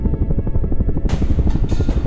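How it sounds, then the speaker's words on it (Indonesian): Rapid rhythmic thumping of helicopter rotor blades in the video game Uninvited Guest, loud and steady, with a burst of hissing noise joining halfway through. "ada helikopter"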